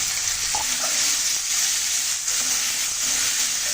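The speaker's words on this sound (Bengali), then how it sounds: "সুন্দর করে আগে ভেজে নেব কচুরমুখীগুলো" Taro (kochurmukhi) frying in a pan with dry red chilli, bay leaf, cumin and turmeric, giving a steady loud sizzling hiss with faint occasional stirring taps.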